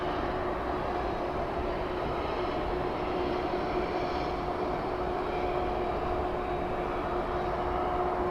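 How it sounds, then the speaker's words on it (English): Aircraft taxiing on the ramp at DFW airport near a 747, a steady low engine rumble and whine that holds evenly throughout, fairly distant with no talk. "And that aircraft pulling right in front of the 747."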